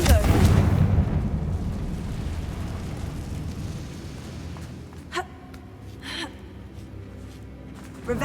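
A Confringo blast curse detonates in Hogwarts Legacy, a heavy, booming burst at the start that rolls off into a long fading rumble, with a few faint clicks and effects afterward.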